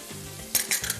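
Ginger garlic paste for butter chicken hits a hot pan and sizzles in short, sharp hissing bursts over a soft background hum, close and fairly loud.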